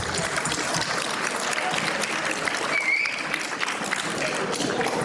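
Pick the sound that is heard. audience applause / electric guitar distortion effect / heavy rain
audience applause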